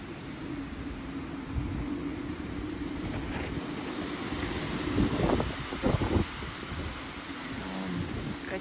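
Strong storm wind blows through a garden of apricot trees, a steady broadband roar and rustle with a few louder gusts near the end.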